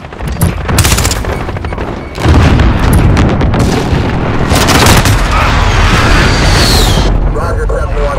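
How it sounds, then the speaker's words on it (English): Precision airstrike explosions in Call of Duty: Modern Warfare, heavy booming blasts and rumbling detonations rolling continuously for several seconds, loud and close, with a deep sustained roar after the first strike and voices speaking over the barrage. "Friendly precision airstrike on the way."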